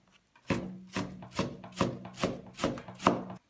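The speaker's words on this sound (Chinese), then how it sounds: "攥好水分的萝卜丝切得碎一点" A kitchen knife chops squeezed, salted shredded radish finely on a cutting board, about seven evenly spaced, crisp thuds in steady rhythm, close and clear with no talking.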